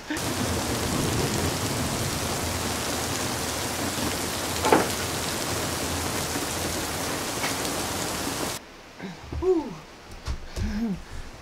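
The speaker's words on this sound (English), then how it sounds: "it's just started raining" Heavy rain pours down steadily at an outdoor school bus build site, a dense continuous roar that cuts off abruptly near the end, leaving a quieter stretch with brief voices.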